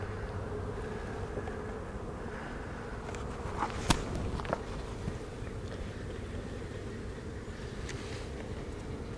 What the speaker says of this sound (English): These bees are pretty darn calm that I'm going to give them just a little bit of smoke.